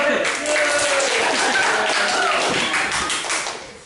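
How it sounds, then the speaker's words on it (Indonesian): Classroom applause for a student named Rozin, a dense burst of clapping lasting a few seconds, with children's voices mixed in and the clapping fading toward the end. "Tepuk tangan buat Rozin"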